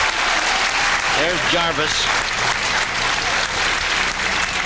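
A pool hall crowd at a 1995 World Pool Championship eight-ball match applauds loudly and continuously, with a commentator speaking over it and a brief cheer or shout rising above the clapping.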